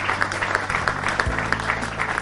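An audience at a church teaching event applauds to welcome a presenter, a short burst of steady clapping under a low hum, moderately loud and close.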